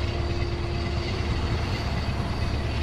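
Train rumble from Euro Truck Simulator 2, heard as a steady low mechanical drone with a faint high whine. It holds evenly for the whole stretch and plays alone.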